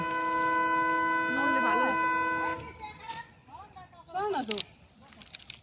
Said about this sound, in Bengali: ট্রেন আসলে সরে যাব ওই ট্রেন আসতেছে